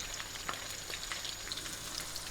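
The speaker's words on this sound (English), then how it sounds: "these have been frying for 3 minutes" Flour-coated prawns fry in a pan with a steady, close crackling sizzle and scattered sharp pops of spitting oil, no voices over it.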